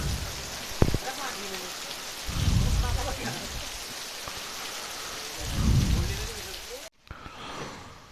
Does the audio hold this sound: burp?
no